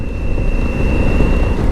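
A 2020 Honda Africa Twin V-twin motorcycle engine runs at a steady, smooth drone, close and loud beneath heavy rushing wind noise, with no talking.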